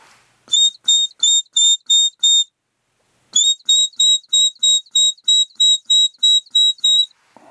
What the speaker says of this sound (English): now we move on to the walk up whistle.